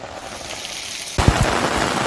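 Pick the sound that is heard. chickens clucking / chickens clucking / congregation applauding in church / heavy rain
heavy rain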